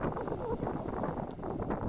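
Strong wind buffeting the microphone of an Autel Evo Nano Plus drone flying into a headwind, a loud, continuous rumbling gust noise with faint higher whines.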